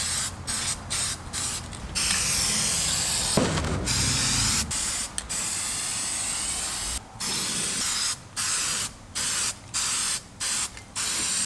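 Short bursts of spray paint hiss from an aerosol can while coating a car audio speaker part, loud and close, starting with a long continuous spray and then a rapid series of brief separate squirts.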